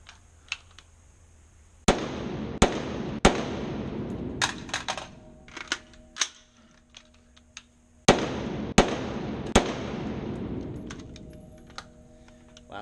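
Rifle shots from a dot-torture shooting drill ring out in sharp, loud bursts, three quick cracks, a pause with handling clicks during a reload, then another string of three, each shot echoing briefly.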